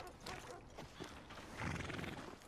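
A horse in Red Dead Redemption 2 whinnies and its hooves clop on the ground, a short, faint burst of snorting and shuffling steps.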